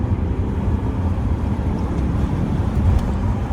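The 1.8 TFSI engine of an Audi A5 coupe rumbles low and steady from inside the cabin after a downshift, with road noise.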